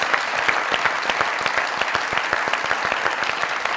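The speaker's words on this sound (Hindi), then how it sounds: "जोरदार ताली, बहुत अच्छे।" Studio audience at the Mazaq Raat comedy show clapping loudly and continuously, a dense sustained burst of applause from a full room with no gaps.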